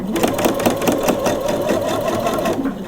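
A sewing machine backstitches a seam on lace lingerie underwear, running as a steady, close, continuous whir with a fast mechanical pulse throughout.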